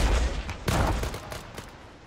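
Several rapid gunshots crack in quick succession during an Arma 3 Marines trench assault, loud and close, with a heavy low-end blast opening the burst and sharper reports following.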